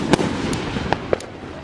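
Fireworks exploding in a park at night, several sharp cracking bangs spaced irregularly, fairly close, with a faint hiss between them.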